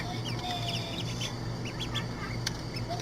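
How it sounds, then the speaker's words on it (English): Seven ducklings make soft, high peeping quacks in scattered short bursts over a constant low background hum. The calls are moderately close and fairly faint. "Baby duck."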